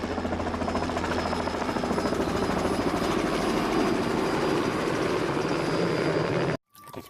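A yellow toy helicopter whirs with a steady, dense buzzing chop that stays loud and even for several seconds, then cuts off abruptly near the end with a brief clatter.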